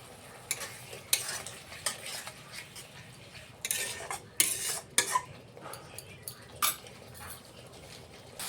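Spice masala with torn green chillies sautés in a pan for a katla fish kalia, giving a soft sizzle under frequent sharp scrapes and clinks of a spoon stirring against the metal. No one speaks.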